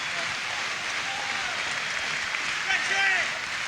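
A boxing arena crowd cheers and applauds a beaten fighter after a title bout, a broad, distant roar of applause swelling near the end, with a commentator talking over it.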